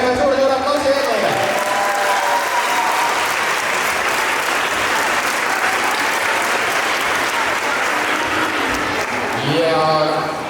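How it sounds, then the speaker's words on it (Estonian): Sustained audience applause at a school dance competition, loud and dense from start to finish, with a voice briefly speaking over it at the beginning and again at the end. "teeme ühe suure aplausi veel teile!"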